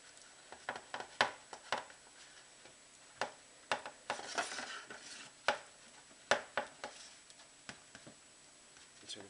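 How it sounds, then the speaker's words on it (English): A spoon mixes ingredients for a lamb shank casserole in a bowl, making a steady series of sharp clicks and taps against the container, close and fairly quiet, with no voice. "Just mix that thoroughly into there."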